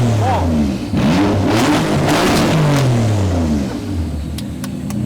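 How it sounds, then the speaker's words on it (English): A flame-shooting Nissan's engine revving hard at close range, pitch sweeping up and down in several loud bursts before settling to idle, with voices talking throughout. "Rev it. What do you, rev it. All the way."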